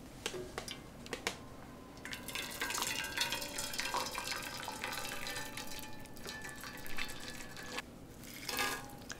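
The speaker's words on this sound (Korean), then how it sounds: "일단 물부터 부어줄게요." Water is poured into a package of jjamppong instant noodles, a steady close splashing stream with light plastic rustles and clinks, quiet and continuous for several seconds.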